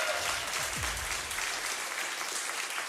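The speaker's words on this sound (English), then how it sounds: "with a round of applause" Audience applause at a Baldur's Gate 3 release showcase panel, a dense, steady wash of clapping that fills the room for the full stretch without letup.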